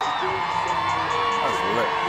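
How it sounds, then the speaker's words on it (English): A football stadium crowd before the game cheers and whoops in a dense, continuous roar, with a voice speaking over the noise. "Look at the crowd though, the crowd already in."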